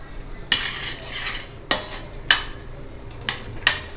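A spoon stirs and knocks against a pot of ingredients during cooking, giving sharp metallic taps and scrapes in an uneven rhythm, five or six distinct hits. The sound is close and fairly loud, with no talking.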